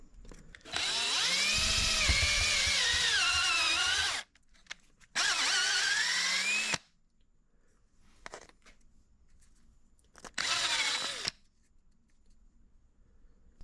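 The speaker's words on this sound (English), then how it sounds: "we'll just kind of put a unibit in there, and we're going to open this up probably just to maximum" A unibit step drill bit bores into a Sea-Doo part in three bursts, a long high whine, a shorter one, then a brief final run, each with rising pitch, separated by quiet gaps.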